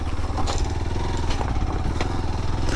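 A Hero Xpulse 200 4V motorcycle rides over a rough, barely made road, its engine giving a steady, close, low throbbing drone with faint clatters from the bumpy ground.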